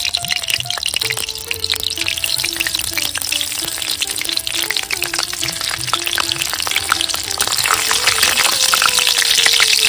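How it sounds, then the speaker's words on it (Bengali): Whole spices — a bay leaf, cinnamon, three cardamom pods, cloves and cumin seeds — sizzle steadily in hot oil for Bengali prawn malai curry, a dense continuous frying crackle that grows louder toward the end, with no talk. "তেলটা গরম হয়ে গেছে, তেলে আমি ফোড়ন দিয়ে দিচ্ছি।"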